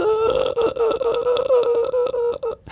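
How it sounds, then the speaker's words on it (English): A warbling, mournful Strider chirp from a video game, with wavering pitch, sustained and fairly loud, rising and falling in short repeated swells. "the contrast of having this sort of cute chirping or sad chirping of the Striders"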